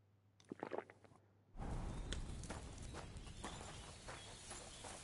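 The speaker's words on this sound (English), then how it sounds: "Este es el caballo." Horse hooves clip-clop in Kingdom Come: Deliverance II, a few faint steps at first, then a denser, steady run of hoofbeats under low background rumble.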